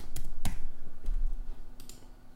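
A few scattered keyboard clicks and taps, sharp and close, spaced irregularly over a steady low hum.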